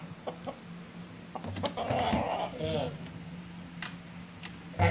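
A chicken clucks in short bursts nearby inside a house, mixed with indistinct talking and household noise.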